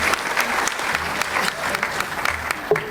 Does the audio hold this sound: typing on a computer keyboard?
no